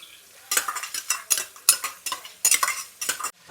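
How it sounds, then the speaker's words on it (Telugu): Chicken pieces frying with ginger garlic paste in a pan, loud close bursts of metal spoon scraping and stirring in uneven rhythm over a light sizzle, no voices. "చికెన్ ముక్కలు కూడా వేసేస్తున్నాను. అలాగే అల్లం వెల్లుల్లి పేస్ట్ కూడా వేసేస్తున్నాను."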